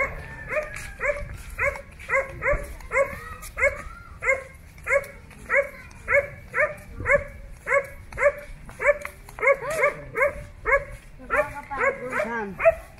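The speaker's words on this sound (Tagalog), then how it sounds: "May aso dyan." A dog barks repeatedly in a steady, rhythmic string of sharp woofs at close range, ending with a few higher yips and whimpers.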